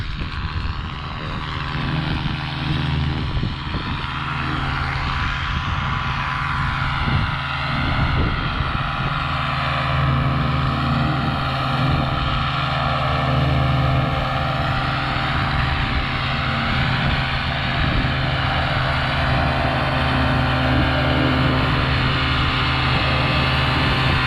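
Light aircraft arriving at Perranporth airfield, with a loud, steady propeller engine drone that holds close throughout and carries a strong, buzzing harmonic tone.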